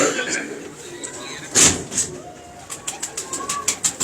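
Pigeons at a breeder's loft in Model Town coo close by, while someone talks. Sharp bursts near the middle give way to a quick run of rhythmic pulses toward the end.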